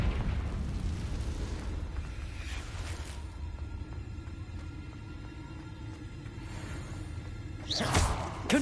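Confringo blasting curse from Hogwarts Legacy: a sustained rumbling fiery blast with a dense low roar lasting several seconds, ending in a sharper burst and whoosh near the end.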